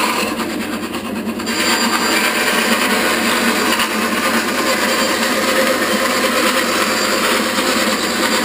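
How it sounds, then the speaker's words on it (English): A bandsaw making its first cut, a loud continuous whirring drone that swells after a second and holds steady close by with no pauses. "Mumsy at work, first cut, bandsaw"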